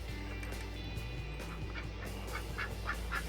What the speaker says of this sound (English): the one female duck made it over to this side.